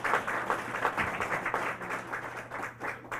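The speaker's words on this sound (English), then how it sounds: "Can we give a round of applause to the facilitators and the people who put this together?" An audience claps for the facilitators at a wellness event, with dense applause that swells and thins in uneven waves and a low steady hum underneath.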